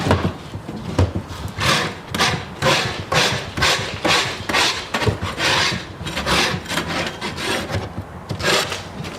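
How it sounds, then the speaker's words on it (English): A wide metal scraper rasps across wooden beehive frames in repeated rough strokes, scraping off wax and debris while leaving the propolis, steady and close with no talking. "So what we're going to do is use a wide scraper, this wide scraper there, and we'll scrape everything but that propolis to begin with."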